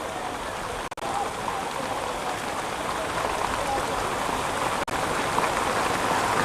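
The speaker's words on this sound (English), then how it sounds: "Serious downpour of rain." Heavy rain hammers down on an outdoor football pitch during a second-division league match, a dense, steady roar with faint crowd and commentary sounds blended beneath.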